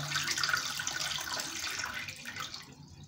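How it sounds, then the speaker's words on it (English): Water trickles steadily into a toilet tank through an opened gate valve during a leak repair, a continuous close hiss of running water with no voices. "I open the gate valve, the water trickles in"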